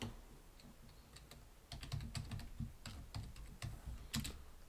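Rapid, uneven keystrokes on a computer keyboard while a Minecraft command is entered, clicking in short bursts at close range with brief pauses between runs of keys.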